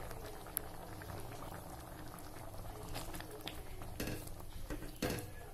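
Matar paneer curry with peas and a little curd simmers in a pan, a quiet bubbling and popping with occasional louder bursts close by.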